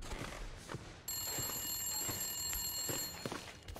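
An electronic telephone ring in The Long Dark trills steadily at a high pitch over muffled background noise, with soft thuds and movement around it.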